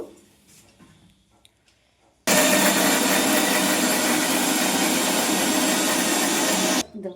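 A mixer grinder pulverizes spices, green chilies and chopped tomato into a paste, starting abruptly after a quiet moment with a loud, steady whirring roar that runs for several seconds and then cuts off.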